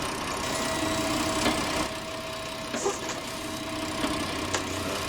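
A small International two-wheel-drive tractor idles in a farming game, its steady mid-low engine rumble running continuously with a few faint clicks and knocks on top.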